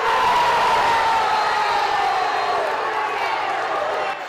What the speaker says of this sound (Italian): boato dei 500 tifosi che esultano con la squadra